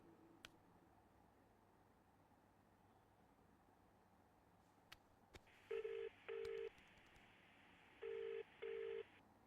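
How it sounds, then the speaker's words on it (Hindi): Quiet hiss with a few faint clicks, then four short electronic beeps in two pairs, a phone video call trying to connect. "वीडियो कॉल करता हूँ"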